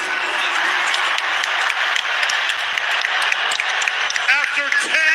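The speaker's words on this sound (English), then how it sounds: "another round of applause for these two." Arena crowd applauds and cheers for two boxers after a ten-round professional boxing match, dense sustained clapping from a large audience, with an announcer's voice breaking in at the end.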